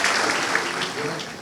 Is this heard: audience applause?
yes